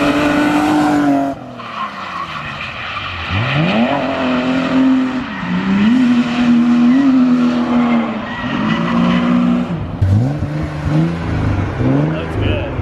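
A drift car spinning big Nitto G2 rear tires: a loud engine revving and bouncing off the limiter while the tires screech and squeal continuously, with a voice talking over it.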